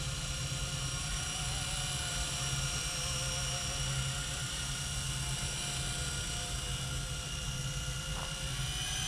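A Blade 120 S2 radio-controlled helicopter flying, its small electric motor and rotor giving a steady high-pitched whine over a low hum, continuous and unbroken throughout.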